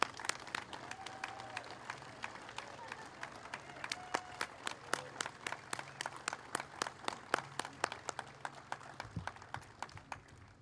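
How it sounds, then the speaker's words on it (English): A crowd at an outdoor Memorial Day ceremony applauds, individual claps sounding sparse and distinct at a moderate distance, fairly quiet and lasting the full stretch before tapering off. "So let's have a big round of applause for our co-grand marshals, Arlene and Alan Holwell."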